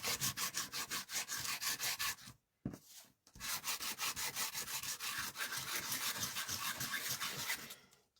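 Quick rhythmic back-and-forth rubbing strokes over a pale-coloured craft surface, close and soft, with a brief pause partway through before the steady scrubbing resumes and fades at the end.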